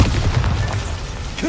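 A Bombarda spell explosion in the Hogwarts Legacy video game: a heavy, low booming blast that rumbles steadily through the whole short moment, with no talking.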